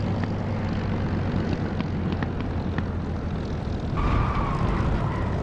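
A Spitfire's propeller engine drones loudly and steadily while it lands on a blown tyre in the DCS flight simulator, with faint clicks and a rising whine near the end.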